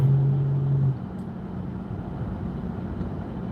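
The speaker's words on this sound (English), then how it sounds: "There's a lot of traffic out here." Road traffic drones steadily at a distance, a constant low rumble with a louder steady hum for the first second before settling into a softer wash.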